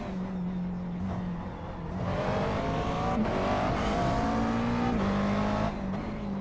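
McLaren MP4 12C racing around Oran Park in iRacing, its engine droning steadily with rising and falling pitch through shifts, loud and continuous with tyre and road noise underneath.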